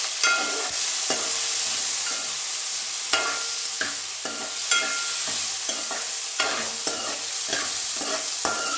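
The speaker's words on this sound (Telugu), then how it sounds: "పచ్చిమిర్చి కూడా మంచిగా ఫ్రై అవ్వాలి" Green chillies fry in a pan for a Telugu tomato chutney, giving a steady close sizzle broken by repeated sharp scrapes and clinks of a stirring spoon at irregular intervals, with no talking.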